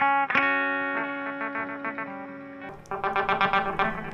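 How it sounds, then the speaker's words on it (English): An electric guitar note is bent and shaken with heavy, exaggerated vibrato, ringing and wavering before a run of quick picked notes, fairly loud and unaccompanied. "You kind of just do that mad over-vibrato, and you can hear it on the string."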